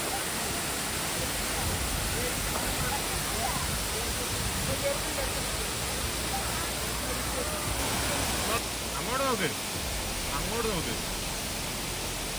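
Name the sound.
waterfall on the Wayanad ghat road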